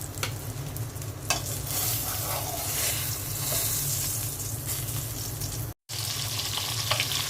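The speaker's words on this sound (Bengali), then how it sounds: "মাছগুলো ভাজা হয়ে গেছে," Fish frying in hot oil in a pan, a continuous loud crackling sizzle with occasional stirring clicks and one short break, heard alone without talking.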